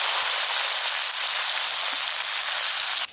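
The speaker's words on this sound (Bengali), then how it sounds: "কড়াইতে দিলাম পেঁয়াজ কুচি" Steady, loud sizzling hiss of chopped onions frying in hot oil with dried chillies, bay leaf and whole spices in a wok, crackling continuously for about three seconds before dropping off abruptly at the end.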